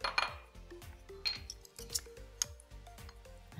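Teaspoons clinking against small dessert glasses while spooning in a biscuit base, a quick run of bright, close, delicate chinks and taps in an irregular rhythm, no talk.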